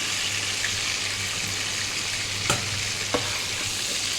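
Chicken pieces fry and sizzle in a hot wok for a red chicken and potato curry, a steady close crackle broken by a couple of sharp clinks as the meat is stirred.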